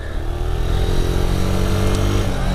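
A motorcycle runs steadily close by while the rider turns without pressing on the footpegs, its engine giving a continuous mid-pitched drone with faint wind noise and no speech.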